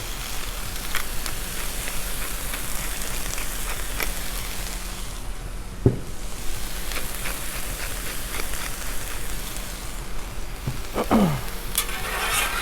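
Sloppy joe meat being spread and stirred on a Blackstone griddle, a steady broad sizzle running throughout with occasional scraping and clinking of a spatula on the flat steel, no talking.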